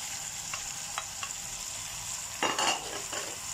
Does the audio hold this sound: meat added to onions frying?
yes